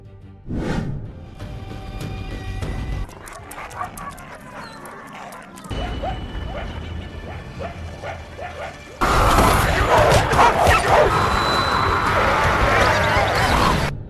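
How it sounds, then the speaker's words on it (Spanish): Wild dogs from the animated series Primal bark and yelp in bursts, mixed with crashes and loud action sounds that swell sharply toward the end. "Los perros salvajes."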